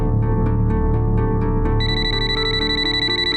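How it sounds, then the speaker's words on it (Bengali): A telephone rings with a repeated electronic ringtone, loud and close, its bright tonal pattern shifting partway through. "ফোনটা ধরুন।"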